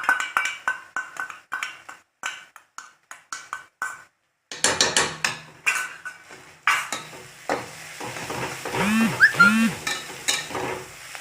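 Green chillies being stirred in a pan for chicken masala, with a run of quick scraping spoon strokes, a short pause, then louder stirring over a soft sizzle, close by with no speech.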